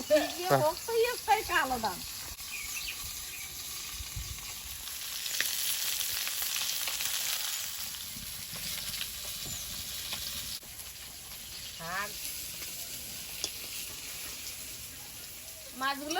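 Puti and tilapia fish fry in hot oil in a pan, a steady faint sizzle and crackle, with someone talking over it in short bursts at the start and again near the end.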